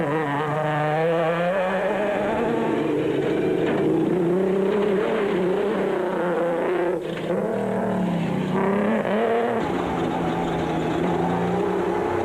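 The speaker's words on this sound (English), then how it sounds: "coming under increasing pressure from teammates GROBLER and Leek in the misfiring proudly South African Nissan Hardbody" Misfiring South African Nissan Hardbody rally truck racing in the 2003 Sugarbelt 400, its engine roaring loud and continuous with rising and falling revs and no break.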